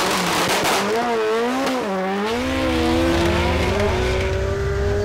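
An Audi S3 races in a duel, its engine revving and rising in pitch as it accelerates hard, loud and close, with the note climbing then holding steady.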